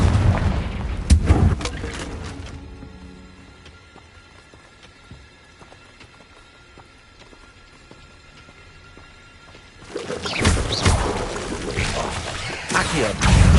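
In the Hogwarts Legacy video game, a Confringo fire spell bursts in loud booming explosions at the start and again at the end, separated by a quieter stretch of low rumbling game ambience and faint clatter.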